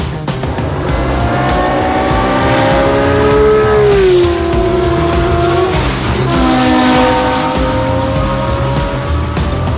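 A vintage Porsche racing car, powered by a V12 engine, drives past with a loud sustained engine note whose pitch falls and shifts as it goes by, steady and close with no voices.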